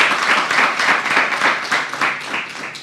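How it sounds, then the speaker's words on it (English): An audience claps steadily at an event, a dense, close and continuous round of applause lasting a few seconds with no talk over it. "Another round of applause for all of us."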